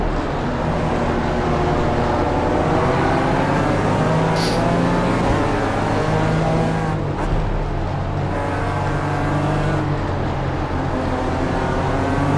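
A BMW race car engine in the iRacing simulator strains hard at high revs, a loud, sustained, buzzing whine with rising and falling pitch and other cars droning nearby.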